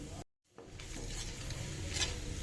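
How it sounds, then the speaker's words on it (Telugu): Seasoning seeds sizzle and crackle in hot groundnut oil, a steady frying hiss near and clear after a brief dropout, with light stirring sounds and no talk. "ఆయిల్ హీట్ ఎక్కిందండి, పోపు గింజలు వేసుకున్నాము. ఇవి కొంచెం చిటపట అంటుండగానే"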